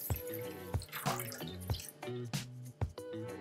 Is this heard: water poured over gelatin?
yes